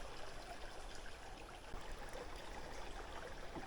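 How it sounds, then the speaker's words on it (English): Creek water flows in a steady, soft rushing trickle, faint and continuous, with no voices over it. "This is a beautiful creek."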